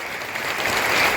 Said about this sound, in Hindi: जरा जोरदार तालियां, 5 मिनट की तालियां देखें कैसे बजाते हैं।